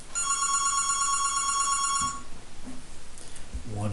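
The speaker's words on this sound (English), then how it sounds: "My phone rings." A telephone rings with a bright, trilling electronic bell for about two seconds and then stops, followed by a quiet voice and faint room noise.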